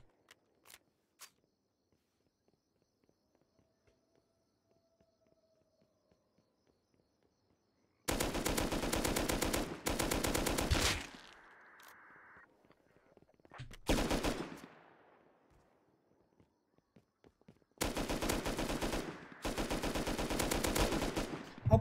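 Automatic gunfire in the video game Rust: after a few faint taps and quiet footsteps, three long, loud bursts of rapid fire ring out, separated by pauses carrying the clatter and echo of the shots.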